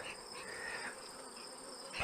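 Honeybees buzzing around resource nucs during a hive transfer, a soft continuous drone of many insects close by with no talking.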